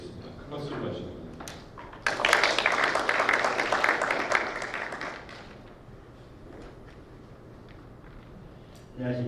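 An audience at an electric vehicle maintenance seminar gives a burst of applause that swells suddenly, holds for a couple of seconds, then fades out to quiet room tone. Speech is heard before the applause starts.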